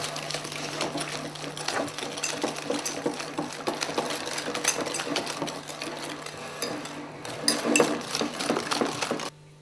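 A spoon stirs a thick frangipane mixture loosened with rum and eggs in a bowl, making steady, close scraping and clinking strokes against the bowl sides, continuous and fairly loud, with no talk.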